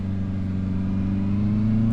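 Honda CB650R four-cylinder motorcycle climbing the Col du Glandon, its engine humming steadily with a slight pitch change as it downshifts, close and continuous with no talk.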